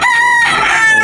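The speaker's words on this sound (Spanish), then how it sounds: "Me quedé muy enamorado de estos gallos." A gamecock from a game farm crows loudly and close by, one strong, drawn-out call with a clear tonal quality.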